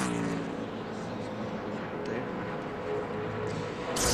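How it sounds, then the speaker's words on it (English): A NASCAR stock car runs long practice laps at the Golden Corral 500, a steady moderately distant engine roar with a louder rise at the end, heard under commentary. "see Mark Martin right here in the 6 car right now. He's on a long race run."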